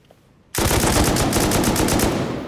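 Sustained automatic gunfire in Rust console edition, a loud rapid rattle that starts abruptly after a brief quiet and keeps going without pause, close and alone.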